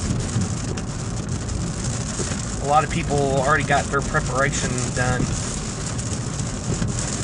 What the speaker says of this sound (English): So it's raining pretty hard now.